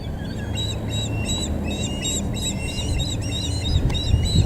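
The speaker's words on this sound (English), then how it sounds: "this crow doesn't want him there" A crow calls near an osprey outdoors, giving a rapid series of repeated, fairly loud calls over a steady rush of wind or ambient noise.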